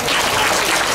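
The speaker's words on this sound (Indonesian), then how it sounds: "tepuk tangan" Applause breaks out from the audience at a live Balinese comedy show, a dense, steady patter of clapping filling about a second without any voices.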